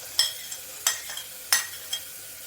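Tomato and ginger stirred into sizzling masala in a pan for cabbage and potato sabzi, with four crisp scraping stirs of a spoon at irregular intervals over a faint, steady sizzle, close by and without talk.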